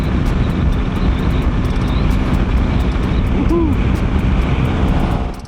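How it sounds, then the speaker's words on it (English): Steady loud wind roar buffeting throughout while riding a motorcycle on a highway, with a rushing road drone underneath and no voices, fading slightly at the very end. "you can feel the wind just pushing you around"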